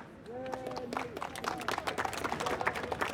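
A studio audience applauds the illustrator Mikaya on a talk show, with scattered clapping building into a dense patter after a brief tone and a few words from a speaker at the start.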